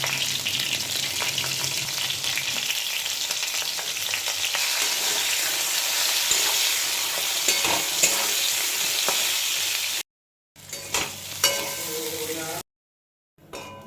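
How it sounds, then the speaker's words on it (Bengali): Pieces of pointed gourd (potol) fry in hot oil with salt and turmeric, alongside bay leaf and whole garam masala, giving a loud, close, continuous sizzle with stirring noises. The sound drops out briefly twice near the end. "পটলগুলো একটু ভেজে নিতে হবে ভালো করে নুন হলুদ দিয়ে।"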